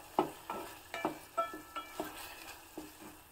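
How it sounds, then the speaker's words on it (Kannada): Two cut green chillies frying in oil in a pan for a tomato saaru, stirred with a spoon: a series of about eight distinct scraping strokes over a soft, quiet sizzle. "2 ಹಸಿಮೆಣಸನ್ನು ಹಾಕ್ತಾ ಇದ್ದೀನಿ ಕಟ್ ಮಾಡಿಬಿಟ್ಟು."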